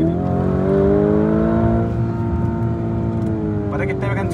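A Lamborghini Urus pulls hard in second gear, a loud, steady engine drone with rising harmonics that climbs then levels off, running under continuous close talk.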